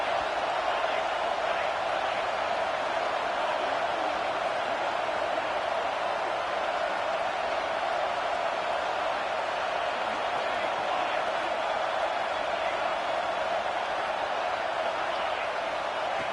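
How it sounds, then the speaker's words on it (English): Stadium crowd noise in an NCAA college football video game rises to a steady, loud, continuous roar during a red zone defensive stand, holding without a break from start to finish. "And here comes the noise. This crowd is trying to inspire this defense to make a big red zone stop."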